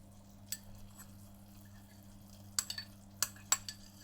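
A spoon clinks against a pot a few times while onions, ginger and crushed garlic are stirred, sparse sharp taps over a low steady hum.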